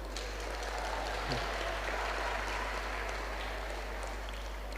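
Steady crowd applause at a varsity boys volleyball tournament closing ceremony, filling the whole stretch, a dense wash of clapping from a large audience with a low hum underneath.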